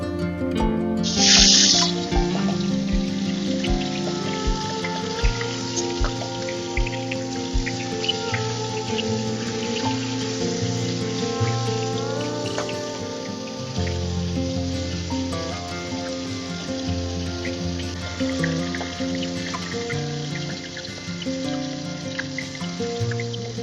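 Hilsa fish heads coated with salt and turmeric fry in hot oil, giving a steady, close sizzle that runs unbroken through the whole stretch, with faint tonal sounds in the background.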